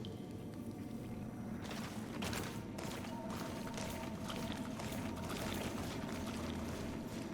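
Water sloshes and splashes faintly in a ritual basin during the Trial of the Water in the video game Greedfall, a steady soft wash with a few light taps.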